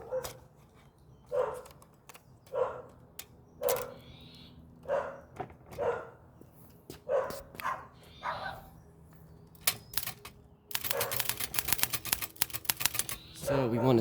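A 1909 Continental Standard typewriter typing on paper, with irregular key strikes and clacks over several seconds, building into a dense rapid burst of typing near the end, with a dog barking intermittently in the background.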